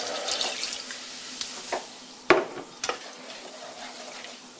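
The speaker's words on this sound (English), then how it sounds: "You're going to want to stir that up" A spoon stirs a cup of Dr Pepper into a sauce for ribs. Close liquid swishing and sloshing is punctuated by several sharp clinks of the utensil against the container, one especially loud midway.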